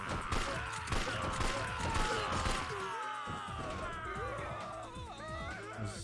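Continuous gunfire and impacts from the game Yakuza 3, busy and layered with shots and crashes, with speech running underneath the action.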